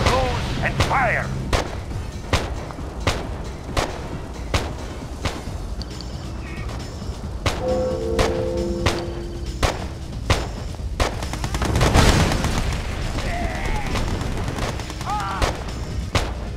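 Cannon fire from vessels in battle, heard as repeated sharp booming shots at irregular intervals over a busy battle backdrop, with one heavier blast partway through.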